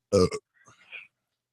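A short, deep belch bursts out loudly near the microphone in two quick pulses, followed by quieter scattered noises before the clip falls silent.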